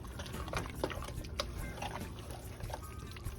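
Water poured into a thick meat sauce for deep dish pizza, a brief splashing trickle with scattered clinks and stirring noises in a kitchen.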